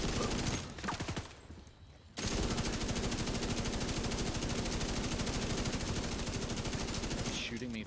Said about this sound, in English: Shooting me through the freaking window, bro.